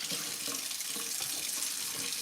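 Tap water runs steadily over mushrooms being rinsed in a kitchen sink, a close, continuous hiss of flow with small splashy variations as the caps are turned under the stream.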